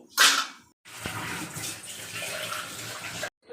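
Water is poured into a cooking pot for a fish curry: a brief splash, then a steady rushing pour lasting about two and a half seconds, close by with no talk.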